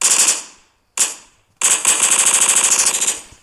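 An MP submachine gun fires in a video game: one short burst, a second brief burst, then a long sustained burst of rapid automatic shots. The gunfire is loud and close, with no talking.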